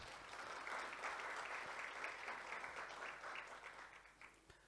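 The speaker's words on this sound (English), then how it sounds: "please give yourselves a huge round of applause for the role that you continue to play" Fairly faint, steady audience applause fills a hall at a mid-year budget speech event, sustained clapping for nearly five seconds with no voices over it.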